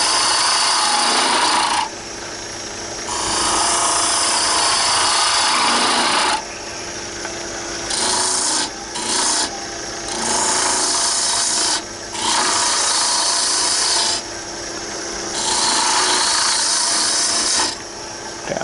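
Wood is turned on a lathe for a wine stopper: loud bursts of rasping gouge cuts alternate with quieter stretches of the spinning spindle, repeating in uneven rhythm without speech.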